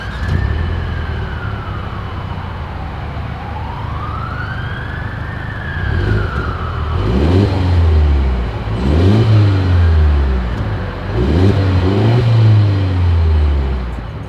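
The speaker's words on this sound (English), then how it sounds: "As always, here is that exhaust clip." A 2023 Mercedes-Benz GLE 350 with dual exhaust revs repeatedly, loud rising and falling engine swells from around six seconds on, while a siren wails in the background.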